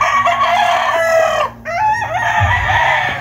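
Young rooster (stag) crowing up close, two loud harmonic crows in a row with a short break between them, with faint low clucking from other fowl underneath.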